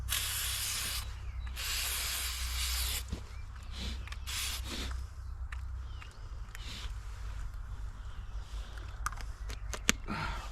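Spray hissing onto an infected ewe during lambing, a couple of sustained bursts near the start amid steady low rumble and faint movement noises.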